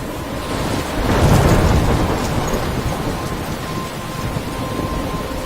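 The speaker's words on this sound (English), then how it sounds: "I'm trapped in a storm?" A thunderstorm in the video game Life Is Strange: a loud, deep rumble of thunder swells and slowly fades over steady rain and wind noise, with no voices.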